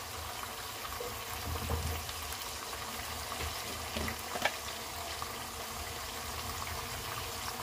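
Powdered spices frying in a pan for Sindhi biryani, a soft, continuous sizzle and bubbling with a few light stirring knocks, fairly faint and steady throughout.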